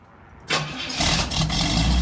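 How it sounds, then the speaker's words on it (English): A cold 1972 Pontiac Firebird engine cranks and catches at about half a second, then settles into a loud, steady idle that builds slightly toward the end, with no talking. "I just had Eric start the vehicle"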